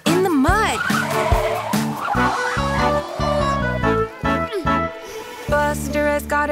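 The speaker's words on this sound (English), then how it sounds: "Screech go the brakes, followed by a thud." Brakes on Buster, a small cartoon car, screech and skid, then a thud as he sticks in mud. The squeals bend in pitch over loud, bright music, with short rhythmic bursts.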